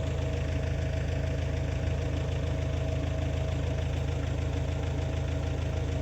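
A tractor's diesel engine idles steadily nearby, a low rumbling drone with a rapid, regular knock that holds constant throughout.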